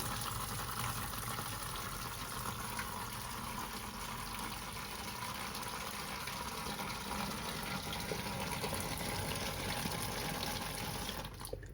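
Tap water gushes steadily into a pot holding chicken, a continuous broadband rush that stays loud and even for about twelve seconds before cutting off, with no voices.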